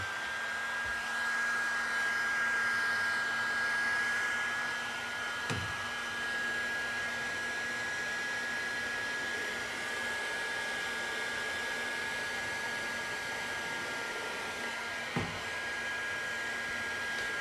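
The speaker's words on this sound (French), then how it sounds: "Alors après, moi j'utilise un décapeur thermique, bon, un modèle un petit peu avec un écran digital un peu sophistiqué" A digital heat gun with an electronic display blows hot air in a steady, loud, continuous whoosh, holding a fan whine throughout with a couple of faint clicks; no one speaks.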